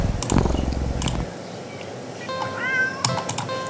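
A cat meows in a video game, a couple of close, clear meows at the start, followed by softer game ambience and a few sharp clicks near the end.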